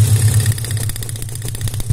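An oil-burning car engine with a faulty cylinder idling roughly and shaking up close, its low throb uneven and pulsing with faint knocking ticks over the steady hum.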